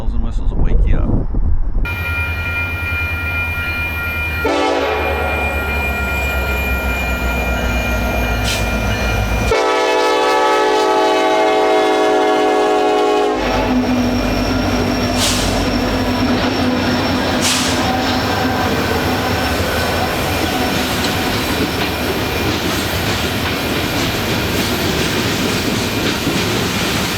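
A westbound Union Pacific train passes a gated road crossing on a curve, its horn sounding in long blasts over rumbling wheels and faint squeal, with someone talking briefly at the start.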